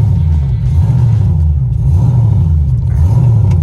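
An LS-swapped Nissan 240SX engine rumbles continuously at close range on its first drive, its low drone rising and falling in uneven waves as the revs surge, with no talking over it.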